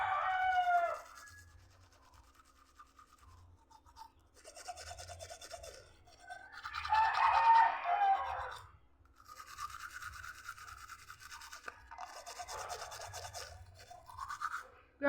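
Teeth brushed with a toothbrush and Colgate toothpaste, giving rasping, scrubbing strokes in bursts of a few seconds with short pauses between, close to the microphone and without talk.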